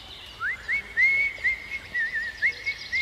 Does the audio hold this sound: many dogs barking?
no